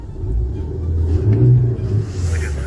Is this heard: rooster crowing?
no